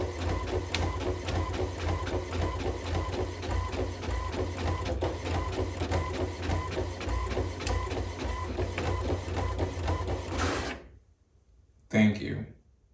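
A printer runs loudly and close in a steady mechanical clatter with a rhythmic pulse for about ten seconds, then stops abruptly, followed by a brief thump and rustle.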